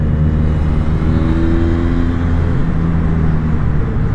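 A Benelli Leoncino motorcycle rides a mountain road, its engine humming steadily with a rising and falling pitch and constant wind rush, close and loud, no talking.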